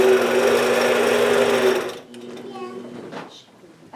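A quilting sewing machine doing ruler work hums loudly and steadily for about two seconds, then stops abruptly, leaving a quieter moment with a voice speaking.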